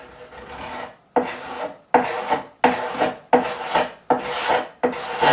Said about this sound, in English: I've got stuff I can use as a scraper.